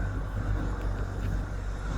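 Inside a car riding to the gym, a steady low engine and road rumble hums continuously, close and even, with no voices.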